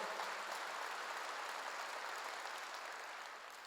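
A church congregation applauding during a sermon, a faint, distant, uniform wash of clapping that fades slightly toward the end.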